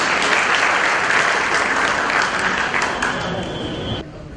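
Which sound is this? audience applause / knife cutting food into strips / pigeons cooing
audience applause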